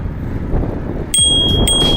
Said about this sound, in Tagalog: may bell ba? Give me one more.